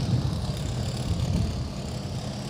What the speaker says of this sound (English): Just listen to the sound of the Hobbit, one of the class-leading bikes in Europe.